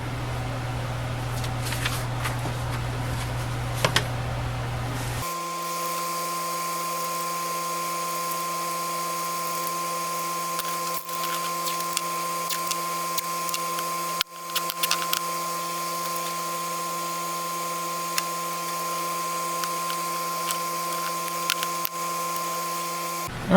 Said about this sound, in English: we have drilled our holes in the corners of each of these frames